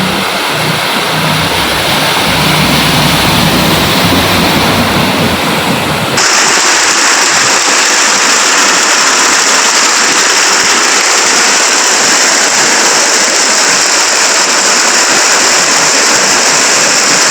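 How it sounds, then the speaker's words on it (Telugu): Heavy rain and floodwater rush through a flooded town, a loud, dense roar like a torrent that changes abruptly about a third of the way in to a brighter, hissing wash and continues unbroken. "నిన్నటి సంధి వర్షం పొట్టు పొట్టు దాంచుతున్నది"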